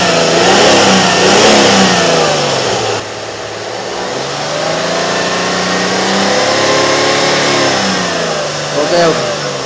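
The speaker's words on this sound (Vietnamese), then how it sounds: "Còn khua máy này" A 2010 Kia Carnival with an intake cam performance fault revs repeatedly, engine note rising and falling loudly through several swells, with a voice talking over it.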